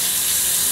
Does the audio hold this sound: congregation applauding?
no